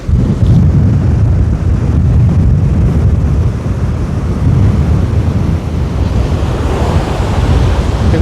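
Strong wind roars and surf pounds without a break along a rough beach in Jaffa, a dense, loud, continuous rumble of waves and gusts buffeting the microphone.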